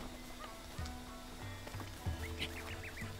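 Cucco chickens in Zelda: Breath of the Wild, in Kakariko Village: a run of quick, nasal clucks and squawks, several in rapid succession over steady low game music, with no speech.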